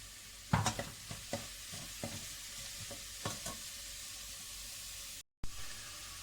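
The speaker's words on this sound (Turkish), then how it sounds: "Kav kavurduğum soğanların üzerine yarım pırasayı ekleyip tekrar kavurma işlemine devam edeceğim." Chopped onions and half a leek sautéing in a pan for a winter garlic vegetable soup: continuous close sizzle broken by repeated spatula stirs and scrapes, with one brief dropout near the end.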